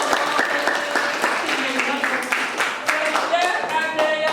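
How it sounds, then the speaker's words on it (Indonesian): An audience in a classroom session claps steadily, dense applause lasting throughout at close range over background room noise. "Oke, kasih aplaus."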